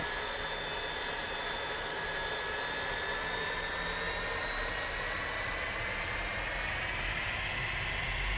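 Jet aircraft engine idling and spooling up while taxiing in the DCS World flight simulator, a steady loud whine with rising high-pitched tones over a constant roar, no voices.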